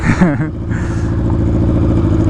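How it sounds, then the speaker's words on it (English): A loud motorcycle engine with no exhaust idles roughly nearby with a rapid, raw, unmuffled putter and a brief rev at the start. "I apologize for the loud bike"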